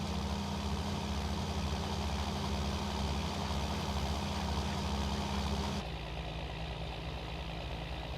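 Tractor engine in Farming Simulator 19 runs at a steady, loud low drone throughout, with a slight drop in pitch and level near the end as the load changes.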